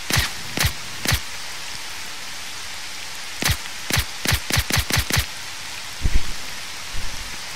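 Gunfire in STALKER: Shadow of Chernobyl, sharp single shots at the start, then a rapid string of about eight shots, with a few duller thuds after, all over a steady rain-like hiss.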